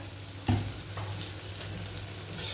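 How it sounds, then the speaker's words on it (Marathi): Oil sizzling as chana dal pithla is sautéed in a pan, a soft steady fry with one brief clink or stir near the start. "हे पहा, आपण आता थोडंसं तेल सोडून आणखीन परतून घेणार आहे"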